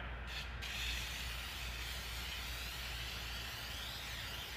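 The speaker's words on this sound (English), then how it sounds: "I'm going to get this whole side good and sticky with spray adhesive" Spray adhesive sprayed from an aerosol can onto the side of a cabinet, a steady close hiss that runs without pause, faint and continuous.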